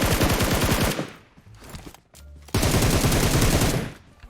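Loud, close automatic gunfire from the video game PUBG Mobile rattles in two long rapid bursts with a brief gap of scattered shots between them.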